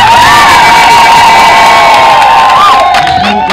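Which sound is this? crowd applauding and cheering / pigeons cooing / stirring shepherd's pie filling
crowd applauding and cheering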